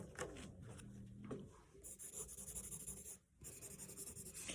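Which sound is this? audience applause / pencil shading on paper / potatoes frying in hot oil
pencil shading on paper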